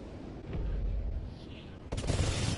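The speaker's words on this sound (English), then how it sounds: "Friendly missile strikes incoming." Missile strikes explode in the Exo Survival game mode as a continuous, dense low rumble of blasts, with a sharper burst near the end.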